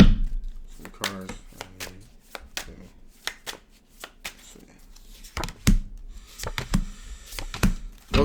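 Tarot cards are shuffled by hand in quick riffling bursts of crisp flutters and taps, close and fairly quiet, with a person talking intermittently between them.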